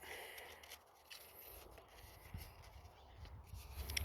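Sandpaper scrubbing at tractor battery terminals makes a faint, close, uneven scratchy rubbing, in short irregular strokes with no talking.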